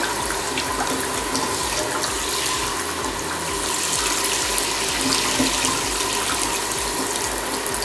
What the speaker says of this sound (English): It's draining good.